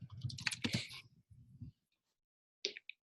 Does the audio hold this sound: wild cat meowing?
no